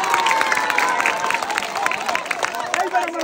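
Steady clapping and cheering from a studio audience at a Bangladeshi digital game show, a dense crowd roar with scattered shouts and a voice rising above it throughout.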